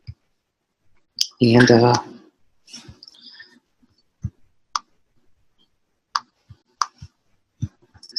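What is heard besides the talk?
computer mouse clicking while editing in iMovie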